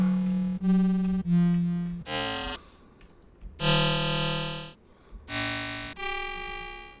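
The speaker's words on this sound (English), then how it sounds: "So you can generate very eerie and cool sounds with this, as the DX7 did" Bright FM-synthesized tones in the style of the DX7, with buzzy, metallic overtones, sound in separate bursts, one sweeping downward, several sustaining and fading.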